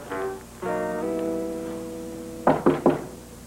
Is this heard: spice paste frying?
no